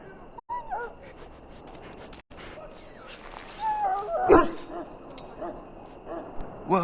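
Dog whimpering and giving short yips in a Dragon Age video game scene, the canine cries rising midway over a steady ambient game backdrop, with a brief louder burst near the middle.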